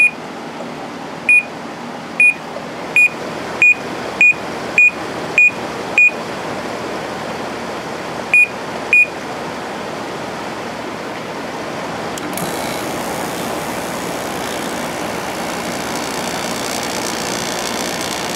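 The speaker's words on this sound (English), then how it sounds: "let's try turning the temperature down. Maybe the compressor will start. I'm going to put it on low." A Samsung 10,200 BTU air conditioner gives a quick run of about nine short, sharp beeps, then pauses before a steady broadband rush of its fan and compressor starting up and continuing on its own.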